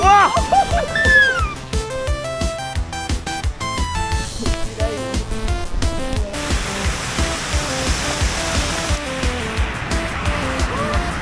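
Water jet spraying on a water ride at Walygator amusement park, a loud continuous rushing splash over busy ride and park noise and music, steady throughout with no speech.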